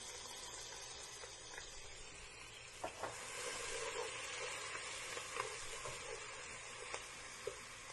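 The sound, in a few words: ginger garlic paste frying in hot oil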